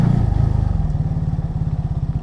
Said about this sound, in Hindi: बाइक पूरा जोर लगाती है।